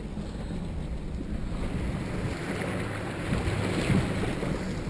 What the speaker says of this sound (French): Premier petit passage de rivière sur la Gate River.